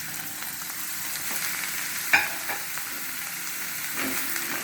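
Mini idlis made with fresh green peas dropped into a hot frying tempering with coriander, a steady sizzle with a sharp clatter as they land, then quieter stirring.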